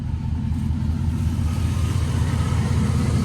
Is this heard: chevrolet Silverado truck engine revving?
yes